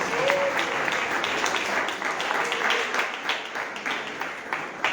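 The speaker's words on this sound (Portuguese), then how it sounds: "Pode exaltar o Senhor com palmas para Jesus." A church congregation at a worship service claps for Jesus, a steady crowd of hands beating continuously at moderate volume, with a faint voice briefly rising near the start.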